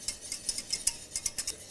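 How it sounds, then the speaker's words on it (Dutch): Soy sauce being stirred in a pan as it thickens, giving a series of light, quick scraping and clinking strokes in a steady rhythm, close and fairly quiet with no voices. "En steeds roeren."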